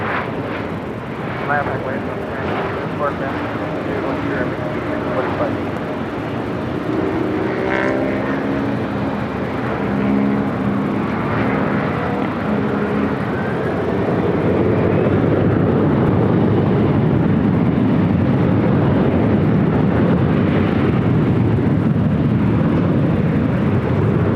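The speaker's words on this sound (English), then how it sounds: "Singapore 777 heading up here to the north side" A Singapore Airlines Boeing 777 at LAX airport gives a steady, loud jet roar that rises and thickens toward the end, with a radio voice and commentary heard over it.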